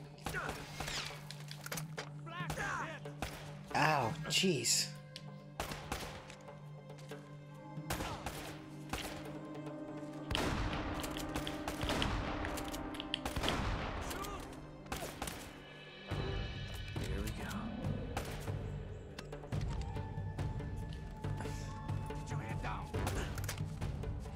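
Gunfire in the video game Uncharted, including a shotgun, comes as scattered sharp bangs and thuds among clattering game effects and background music, with a voice talking at times.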